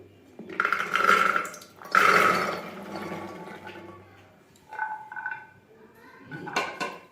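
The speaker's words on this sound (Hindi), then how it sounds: "देखिए हमने सभी चने को प्रेशर कुकर में डाल दिए" Dry chickpeas rattle and clatter into a metal cooker in two quick pours, followed by softer scraping and knocks.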